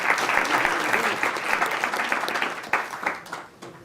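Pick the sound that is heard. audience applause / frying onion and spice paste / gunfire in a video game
audience applause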